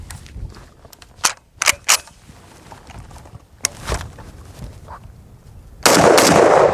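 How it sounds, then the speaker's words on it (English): An FAL rifle fed from a DSArms magazine fires a rapid string of about five sharp, loud shots, followed by a burst of broad, steady noise at the end. "The next thing we're going to shoot is just 5 rounds rapid fire"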